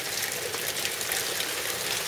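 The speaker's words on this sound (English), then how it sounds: "I've never seen this much hail go on for so long." Heavy hail falls in a dense, steady, hissing patter with no breaks and no voices.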